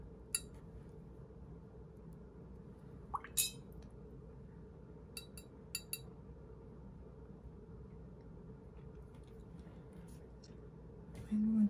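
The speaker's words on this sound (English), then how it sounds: "I'm going to clean my thin brush." A thin watercolor paintbrush rinsed in a jar of clean water gives a few light clinks and taps against the glass and some soft sloshing, all fairly quiet against a low background hum.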